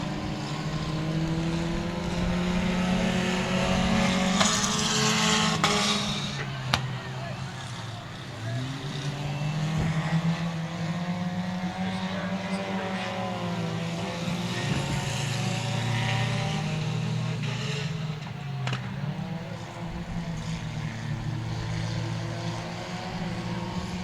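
Race cars at Cotton Bowl Speedway, engines droning and rising in pitch as they sweep past, several cars overlapping at a steady distance, with an announcer's voice running underneath.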